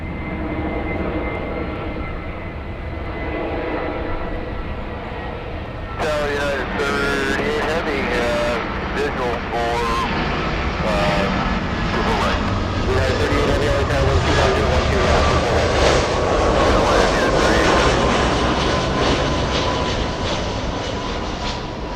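Airliner landing on autoland at Los Angeles International Airport, a sustained engine roar that swells louder partway through, with voices talking over it for much of the time.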